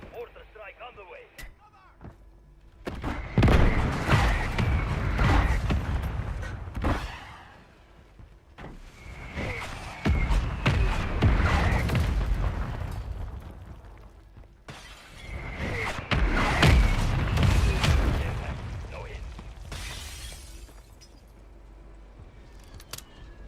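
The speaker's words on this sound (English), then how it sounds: "Mortar strike on the way." Mortar strike explosions in the video game Call of Duty Warzone: three long, heavy blasts in succession, each a broad roaring burst with crackling debris that swells and fades over several seconds.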